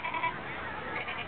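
A voice imitates a black sheep's bleat, giving a short, wavering, nasal baa in a children's puppet show, heard up close and alone.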